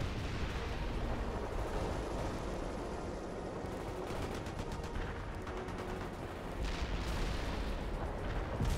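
Artillery strike slamming into a tank in the war game 衝突世界, a dense rumbling barrage of booms and crackling blasts layered with game battle noise, fairly loud and continuous, with no talk.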